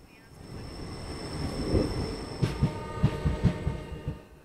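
A train rolls along the tracks on the route toward Belagavi, heading away from Madgaon Junction, with a steady low rumble that builds midway and a run of rhythmic wheel thumps over rail joints near the end.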